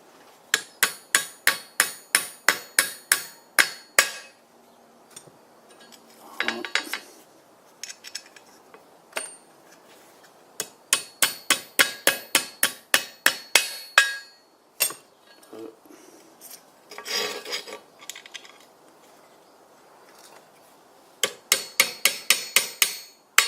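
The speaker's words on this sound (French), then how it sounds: "Marteau." Repeated sharp hammer blows on metal in rapid bursts, with short pauses and lighter clinks between strikes, while deleting the air-conditioning compressor on a Jeep Cherokee XJ.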